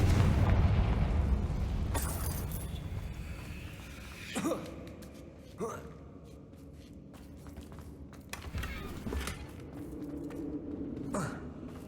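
Confringo fire spells from Hogwarts Legacy burst in several moderate booms and pops, spaced a second or more apart over a steady rumbling game background.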